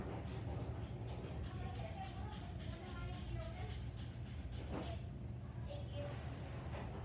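A Union Pacific freight train passes, led by the 1983 Western Pacific heritage locomotive, in Magnolia, Texas: a steady, close rumble and rattle of rolling wagons throughout, with faint voices underneath.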